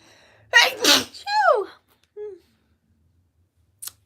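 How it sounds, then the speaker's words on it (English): A single loud, close sneeze with a sharp intake of breath beforehand, followed by a brief vocal sound and then quiet. "Oh, I have to sneeze."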